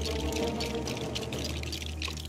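Water pours steadily and continuously in the Lego Marvel Super Heroes video game, a dense, fairly loud splashing wash with no break, over a low steady background hum.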